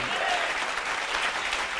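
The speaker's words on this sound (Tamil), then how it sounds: "கைத்தட்டே" Audience applause at a Tamil Christian sermon, steady dense clapping from a crowd, loud and continuous through the short stretch.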